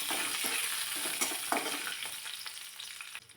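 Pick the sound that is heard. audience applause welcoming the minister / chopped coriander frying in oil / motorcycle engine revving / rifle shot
chopped coriander frying in oil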